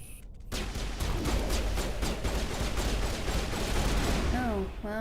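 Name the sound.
gunfire in the video game Mass Effect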